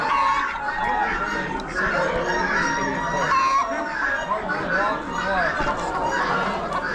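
Hens clucking at an Amish auction, a busy mix of poultry calls with crowd chatter and talking throughout, steady and fairly close.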